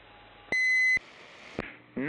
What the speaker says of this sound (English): I hear people playing with beeps and beep